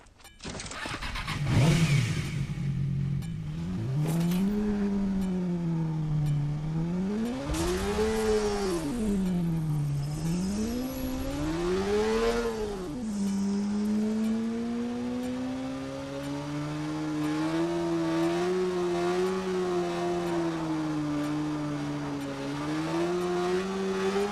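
Car engine in the Watch Dogs video game, revving up and down in repeated swells, then holding a steady rising drone as the car drives along, loud and close with no talk.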